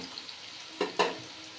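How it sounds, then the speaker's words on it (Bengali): Bitter gourd slices fry in hot oil with a soft, steady sizzle, broken by two brief louder rustling bursts as the pieces are moved in the pan. "লাল লাল করে যখন ভাজা হয়ে গেলে আমি তুলে নেব।"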